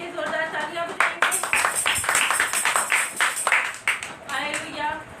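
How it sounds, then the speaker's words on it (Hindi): A congregation at a Monday prayer meeting in Azam Basti, Karachi, claps loudly and vigorously in a dense burst of hand claps, mixed with voices and cheering. "खुदावन के नाम और उसके जलाल और उसके मौजज़ात के लिए जोरदार तालियां बजाएंगे।"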